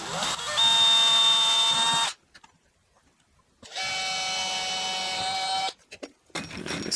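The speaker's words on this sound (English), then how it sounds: "I'm going to be using an electric drill" A wireless electric drill drives normal wood screws into workshop bench wood, with two sustained whining motor runs of roughly two seconds each separated by a quiet pause, loud and close, then a brief final burst.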